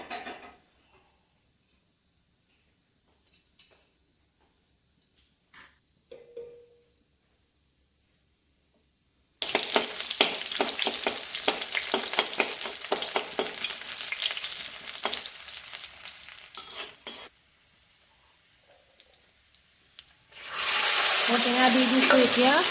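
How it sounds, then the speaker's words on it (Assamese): Finely chopped elephant apple (outenga) sizzles loudly in hot oil, with stirring scrapes in the pan; a quiet start gives way to steady frying, a brief lull, then a fresh burst of intense sizzle. "প্ৰথমে মই ঔটেঙাটো ভাজি ল'ম"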